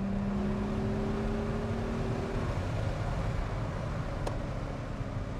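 A Chrysler Crossfire, a Mercedes SLK beneath the badges, accelerates in second gear, its engine note holding a steady pitch for the first half before fading into a fainter broad rush, with no talking.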